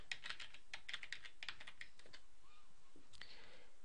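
Quick keyboard typing as a user ID and password are entered, with rapid clusters of crisp key clicks, close and quiet, followed by a few scattered taps with short pauses between them.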